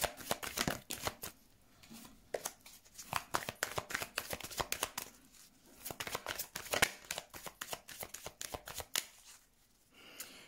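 A deck of tarot cards is shuffled close by, with quiet, rapid bursts of snapping card flicks and soft slaps in uneven clusters and brief pauses between them.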